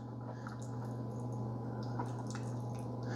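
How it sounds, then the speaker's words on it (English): Hot water trickles and gurgles steadily from a Keurig K-Supreme coffee maker during a cleansing brew, a continuous splashing flow over a constant low machine hum with no talking. "So now it's going to bring water in, heat it up, and run it through there to kind of flush out the system."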